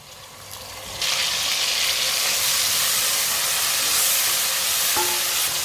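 Garlic hits browning onions in a hot pan for a turnip and spinach sabzi, bursting into a loud, steady, hissing sizzle that holds without a break.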